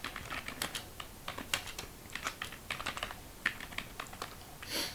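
Fingers type on a computer keyboard while filling in a spreadsheet for a practice exam, a quick, uneven run of close, crisp key clicks with no one speaking.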